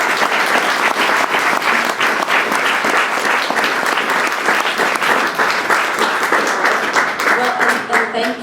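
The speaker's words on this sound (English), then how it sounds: "Give a big round of applause." A large crowd claps steadily and loudly throughout, a dense, continuous wash of applause with some voices mixed in.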